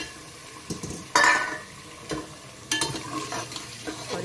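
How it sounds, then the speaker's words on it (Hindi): Chicken pieces being added to masala frying in hot oil for a Nawabi chicken korma, with crackling sizzle bursts and stirring scrapes against the pan, close and moderately loud, with no talking. "अब सारे चिकन को हम मसाले में ऐड कर देंगे"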